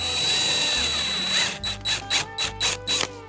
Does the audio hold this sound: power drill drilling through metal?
yes